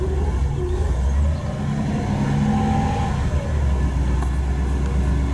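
A car engine hums and revs steadily as the vehicle drives off, a low, continuous and fairly loud rumble that holds for the whole stretch with only a brief dip partway.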